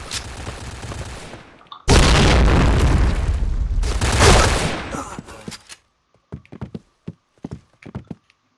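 Grenade explosions and gunfire in a shooter video game: two long, loud roaring blasts fill the first half, then a string of sharp, separate shots rings out against near silence.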